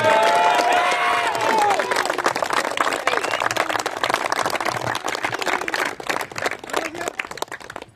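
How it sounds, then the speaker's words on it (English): Crowd applause and cheering at a post-match presentation ceremony for a one-sided amateur cricket league game, sustained loud clapping with shouts for about eight seconds, a voice heard briefly at the start. "Can we have a huge round of applause for Phoenix?"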